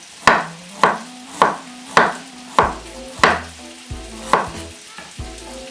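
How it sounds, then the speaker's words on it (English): Sausage pieces frying in a pan, a steady sizzle punctuated by regular sharp knocks of ginger being sliced on a board nearby, about eight cuts in a rhythmic series. "now that we've got the sausages chopped up and they're back over cooking, as it's cooking"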